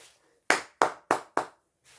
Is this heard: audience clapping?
yes